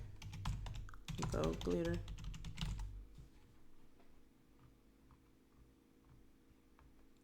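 Soft computer keyboard typing ticks faintly after a short stretch of someone speaking, a few scattered clicks against quiet room tone.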